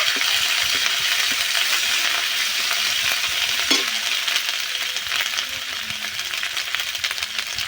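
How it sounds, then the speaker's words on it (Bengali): Cumin, coriander and ginger paste masala is sautéed in a pan, a loud close sizzle with scraping strokes and one sharp metallic clink partway through, easing slightly toward the end, with no speech. "আর জিরে আর ধনে বাটা হাফ চামচ মশলাটা আবার একটু কষে নেব"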